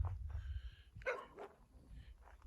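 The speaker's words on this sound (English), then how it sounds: "And, oh, my dog, Pilsner, wants out." Near and fairly quiet, a dog at a campsite in Utah's Book Cliffs gives a few short barks and a whimper, wanting to go outside, amid low rumbling background noise.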